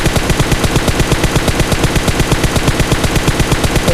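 Rapid automatic gunfire in the video game PUBG, a loud, steady stream of evenly spaced shots rattling continuously throughout, with no talk over it.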